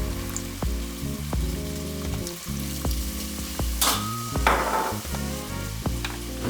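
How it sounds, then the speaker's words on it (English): Clam juice hitting a hot pan of aromatics, a loud steady sizzle with rhythmic stirring clicks and a brief burst of hissing steam midway. "Now we're gonna hit it with our clam juice."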